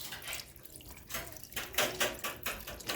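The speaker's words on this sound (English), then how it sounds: "I'm gonna go ahead and add my chicken stock, or my vegetable stock." Vegetable stock, about two cups, is poured into homemade tomato soup, making a close, running liquid splash that grows louder and more uneven toward the end.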